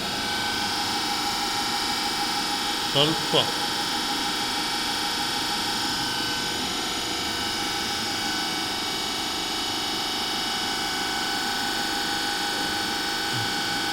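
A DC motor runs at about 1500 RPM on a Swinburne test bench, giving a steady, even hum and whine throughout. A couple of faint clicks come early on, with no talk.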